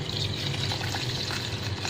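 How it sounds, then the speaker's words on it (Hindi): Soaked rice being added to spices in a cooking pot along with water, making a steady close sizzle and bubbling liquid wash with faint stirring, continuous throughout. "अब हम मसाले में चावल ऐड कर देंगे जो कि हमने भिगो रखे थे और इसके अंदर पानी शामिल करेंगे हम"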